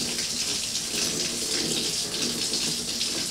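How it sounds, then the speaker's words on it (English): Hot water runs steadily from a tap during a beer-brewing session with an extract kit, a constant, soft hissing gush that stays even throughout with no voices over it. "I'll make sure there's hot water coming out"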